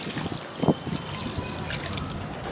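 Water poured for a bath during hot weather, a soft trickling, splashing pour with one brief louder splash, close and steady over a quiet background.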